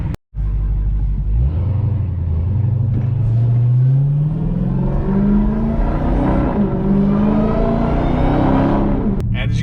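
A loud supercharged car engine with an aftermarket intake starts up and then revs. Its rising, falling roar sweeps upward with a whining overtone, and it sounds close and continuous throughout.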